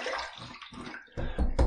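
Water splashes onto a face from cupped hands before a shave, a few soft wet sloshes and drips building to louder splashes near the end, close and alone.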